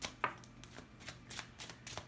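Kipper cards are shuffled by hand in a series of soft, quick riffles and taps, faint and close, with no talking.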